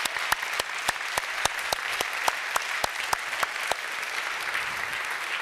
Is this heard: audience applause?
yes